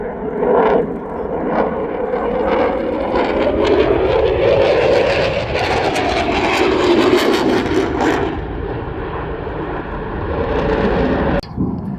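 A Dassault Rafale fighter jet roars past in a high-speed topside pass near Mach 0.9 at an airshow, a loud sustained engine rumble that swells and then fades sharply at the end.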